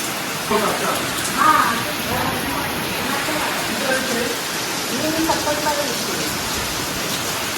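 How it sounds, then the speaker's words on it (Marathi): Steady heavy rain hisses throughout, with people talking over it at moderate volume. "हा बाहेर पावसाचा आवाज येत आहे बाहेर पाऊस बघा"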